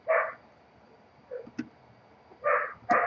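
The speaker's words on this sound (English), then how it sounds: "And the dog barks and barks." Dog barking indoors during a LEGO Star Wars Executor Star Destroyer build, a few sharp, moderately near barks in short bursts separated by quiet gaps, with light clicking between them.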